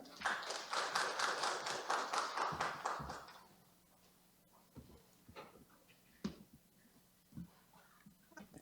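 An audience at a workplace innovation forum in Korea claps in brief, fairly faint applause that fades out after about three seconds, followed by scattered small taps.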